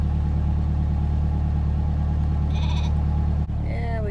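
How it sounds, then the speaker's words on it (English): Sheep and lambs in a big flock bleat a few times over a steady low engine rumble, with a short burst near the end after a brief pause in the drone. "we got a couple lambs out here with the big flock"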